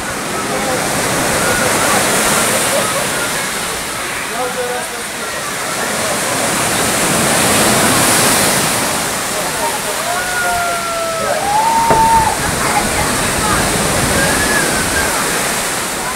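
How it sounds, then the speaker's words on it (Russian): Sea waves wash continuously onto a beach at Gaspra near Yalta, Crimea, loud and near, with surges rising and falling; a voice is briefly heard over the surf. "Шикарные такие волны."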